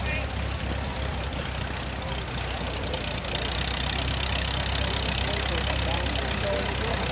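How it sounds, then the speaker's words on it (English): Antique steel-wheeled gasoline tractor from the 1920s–1930s idling at an outdoor farm show, a steady low chugging hum heard from nearby, with crowd and wind noise mixed in. "antique gasoline tractor. When I say antique, I mean antique. It has steel wheels."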